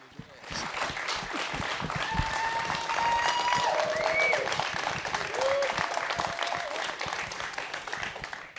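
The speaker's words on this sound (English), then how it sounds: "Let's give one more big round of applause for tonight's incredible documentary." An audience claps after a documentary film screening, sustained applause from a crowd with a few whoops and cheers rising over it, swelling then slowly thinning out.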